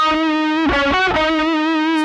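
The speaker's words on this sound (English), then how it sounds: "now my echo's back on" Guitar run through a Rocktron Utopia G300 multi-effects pedalboard with its delay echo engaged, sustained notes ringing with repeating trails that blend into each other, steady and loud with no talking.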